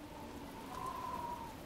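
Rain in the adventure game Overclocked: a soft, even patter of falling drops holds steady throughout at low level, with a faint tone briefly rising above it and no voices.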